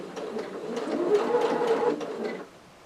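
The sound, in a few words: sewing machine stitching a tote bag pocket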